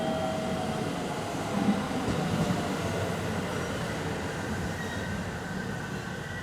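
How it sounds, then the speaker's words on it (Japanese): A 313 series electric train departs Inazawa Station, its steady rolling rumble and faint wheel hum filling the platform, with a high tone briefly at the start, moderately loud and continuous without talk. "2番線から列車が発車します。"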